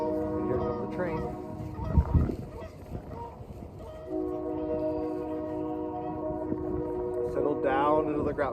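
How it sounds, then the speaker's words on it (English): A passing train sounds its horn in a long, steady sustained blast, with geese honking briefly at the start and end and a low rumble underneath, heard from some distance outdoors. "And here comes the train."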